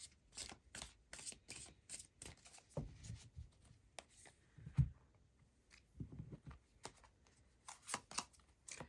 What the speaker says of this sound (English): let's get some Radiant Sun cards out for you.